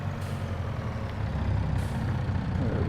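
A truck in Farming Simulator 22 drives with a steady low engine drone and faint hiss, continuous and moderately loud, without talk.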